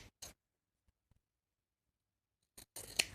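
Scissors snipping through card for antique-script journal cards: a couple of short crisp cuts at the start, a long quiet gap, then a denser burst of close snips at the end.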